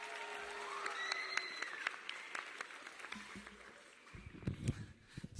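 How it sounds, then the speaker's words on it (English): Applause from a crowd at a 2023 high school graduation ceremony for an engineering school in Cleveland, fairly faint and distant clapping, with some voices near the end. "One more round of applause."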